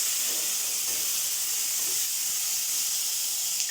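Carrot, green chilli and tomato sauté in a hot pan for a cauliflower curry, giving a steady, close, bright sizzling hiss that continues evenly without a break.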